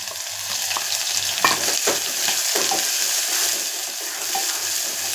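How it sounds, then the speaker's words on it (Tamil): Fenugreek and cumin seeds crackle in hot oil with a steady, dense sizzle, small pops scattered throughout and a few soft stirring scrapes mixed in. "அந்த வெந்தயமும் அந்த சீரகமும் நல்லா பொரிஞ்சு வர்றது"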